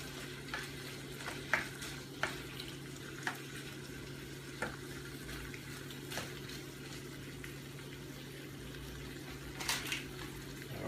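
Cut red and orange peppers stirred into cooking udon noodles with shrimp, a soft continuous sizzle broken by several sharp utensil scrapes and clicks at irregular intervals, fairly quiet and close.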